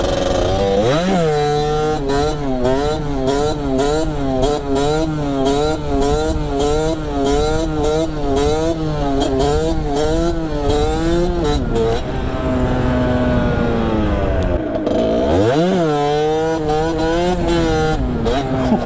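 A Sherco motorcycle engine revs hard and close in a rapid series of throttle blips, rising and falling in a raspy, buzzing rhythm, with a long deep dip and a sharp climb near the end.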